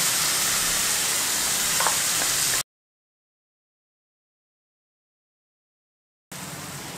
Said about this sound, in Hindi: और राई जीरा डाल रही हूँ मैं।